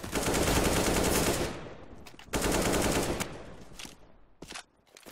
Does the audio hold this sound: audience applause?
no